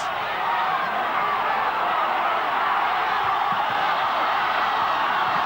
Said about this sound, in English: the crowd screaming for off, off, off